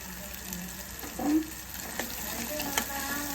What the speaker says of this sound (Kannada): ಬೆಲ್ಲ ಹಾಕಾದ್ಮೇಲೆ ಎಲ್ಲ ಫ್ರೈ ಆಗ್ಯಾವ ಕ್ಲೀನಾಗಿ